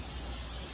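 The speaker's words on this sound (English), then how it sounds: "Oh, and I need some spray, Danielle. You should use spray your waffle" Cooking spray hisses onto a heating Belgian waffle maker from Sam's Club, a short steady burst of aerosol spray, fairly close and with no talking.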